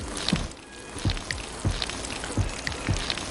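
Watering plants in a farming video game: a soft splashing pour with a series of light, evenly spaced droplet taps, fairly quiet and without talk.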